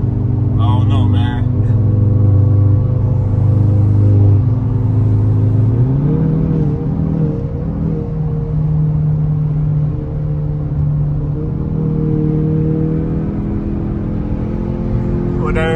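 A Kia Stinger accelerates hard, its loud, steady engine drone climbing in pitch partway through and holding a strong, close rumble to the end.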